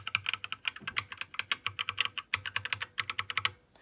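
Quick typing on a GK61 mechanical keyboard fitted with yellow switches gives close, steady runs of sharp keystrokes with a duller thock underneath each press, pausing briefly a couple of times.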